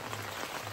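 Heavy rain pours down in a Konkan village, a steady, soft hiss of water striking surfaces that continues evenly throughout with no voices.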